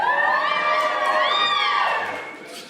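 An audience at a comedy show cheers loudly, high whooping voices rising together before the noise fades toward the end.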